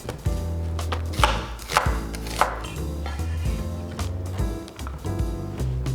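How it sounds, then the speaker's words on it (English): Half an onion is sliced with a knife on a cutting board for Korean bulgogi: a steady run of close, crisp knife strikes in quick rhythm, heard alone without speech. "Then we'll slice half of onion."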